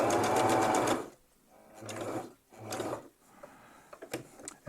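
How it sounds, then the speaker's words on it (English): A sewing machine runs in several close, fast bursts of rapid mechanical stitching as it sews a box pattern on a cinch strap, separated by brief pauses. "I'm going to complete my box, which is half of the sewing"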